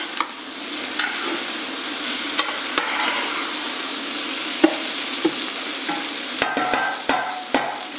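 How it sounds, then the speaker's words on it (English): Lentils fry with spices in a pot, giving a steady close sizzle throughout, broken by scraping stirs and spoon taps against the pot. "You want the lentils to fry a little bit with all the spices in it."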